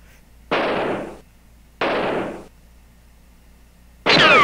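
Gunfire during a hunt in The Oregon Trail 5th Edition: two loud, sharp game gunshots, each with a decaying tail about a second apart, followed by a third burst with a whistling, ringing tone at the end.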